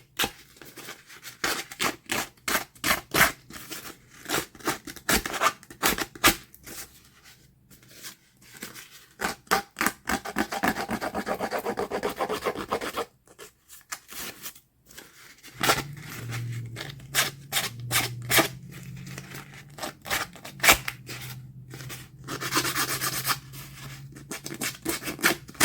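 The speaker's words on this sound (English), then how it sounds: "Maybe if I take some sandpaper to it, that might loosen up some of it." Sandpaper is rubbed back and forth over a fabric collage in quick, rhythmic rasping strokes, with short pauses and a steadier stretch of scraping in between, close and fairly loud.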